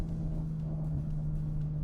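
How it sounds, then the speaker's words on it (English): BMW M4 F82 engine droning steadily with a strong low hum, close and continuous, as the car downshifts; no talking. "Oh, the downshifts on this car is amazing."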